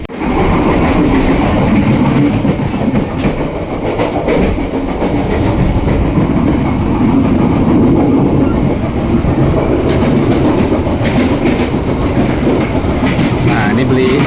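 Steady rhythmic clickety-clack of the KA Matus train's wheels on the rails, heard from inside the dining car, with a constant rumble throughout and faint voices in the background.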